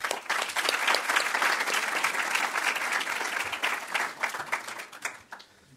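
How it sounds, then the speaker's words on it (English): Dense audience applause fills a hall after a Nordic panel discussion on refugee employment, steady and loud for about five seconds before tapering off and fading out at the end. "give the panel a big applause"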